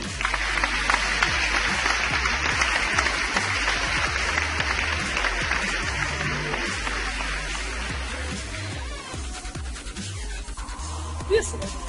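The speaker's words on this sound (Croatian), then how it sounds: "Ajmo jedan aplauz za Colu." A steady wash of clapping applause runs for about twelve seconds, loud and continuous, with a voice talking over it throughout.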